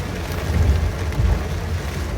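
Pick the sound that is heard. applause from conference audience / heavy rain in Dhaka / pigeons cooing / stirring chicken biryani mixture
heavy rain in Dhaka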